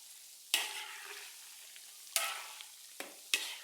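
Sausages and french fries deep-frying in a wok, a faint, steady frying hiss broken by four sharp stirring or scraping bursts that each fade quickly.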